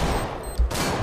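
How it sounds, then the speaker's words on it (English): Gunfire in Counter-Strike: Global Offensive on the Inferno map, a short dense burst of shots with a heavy thump partway through, loud and close. "that guy was trying to shoot me through the gap"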